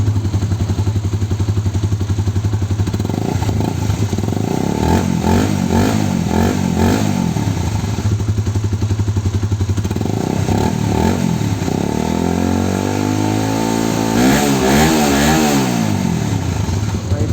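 A Honda CB150R motorcycle with a new WRX GP3 full-system exhaust idles with a deep, even rumble, then revs up and down a few times, close by, mellow rather than loud.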